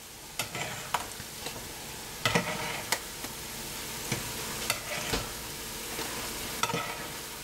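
Noodles frying in a pan, served one or two portions at a time, sizzle steadily while a utensil stirs and taps, leaving sharp scraping clicks every second or so, close and fairly quiet with no talking.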